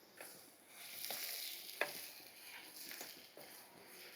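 Curry leaves tossed in with salted onion pieces frying in a pan, a faint, even sizzle with a few soft stirring taps and one sharper clink.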